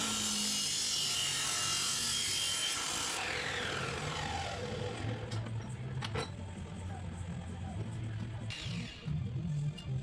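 A grinding-stone cut-off saw cuts through reclaimed metal pieces, a loud continuous abrasive whine and rumble that fades out after a few seconds, followed by a lower machine hum with sharp clanks.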